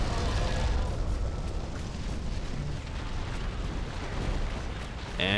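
Continuous roaring rumble of buildings burning and collapsing under dragon fire breath in the strategy game Rise of the Witch-king, dense and loud throughout with no clear breaks.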